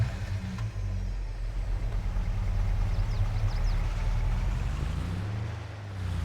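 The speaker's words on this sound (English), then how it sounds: "And does that sound a bit like a tractor to you?" Tractor engine in Farming Simulator 22 turning over and settling into a steady low, throbbing idle that runs throughout, loud and close with no talking.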